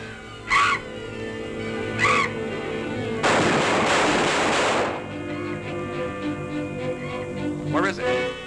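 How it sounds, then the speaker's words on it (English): Gunshots ring out in a 1940 black-and-white horror film, several sharp cracks followed by a dense burst of firing, mixed with period music and shouted voices. "Quick, shoot it!"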